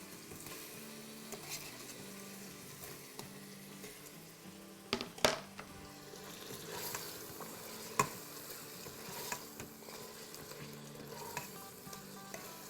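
Tomatoes go into mutton in an Instant Pot with a quiet, steady sizzle and frying crackle. A few sharp clanks of a spoon or lid and light stirring break through, and no one speaks.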